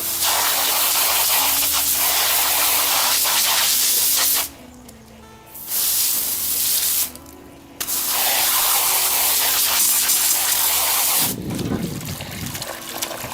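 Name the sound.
hosing out the pond pump with water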